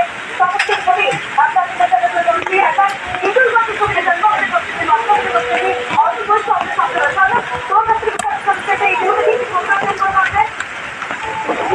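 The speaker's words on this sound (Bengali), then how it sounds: "বৃষ্টি শুরু হয়ে গেছে বন্ধুরা, দেখুন ঝড়ের দাপট দেখুন কত জোরে ঝড় হচ্ছে" Heavy rain and strong wind lash down during Cyclone Remal, a loud, dense and unbroken roar throughout, with a voice speaking over the storm.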